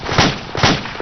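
AI soldiers fire in the ARMA 2 video game, two loud, close bursts about half a second apart with a rhythmic, mechanical cadence.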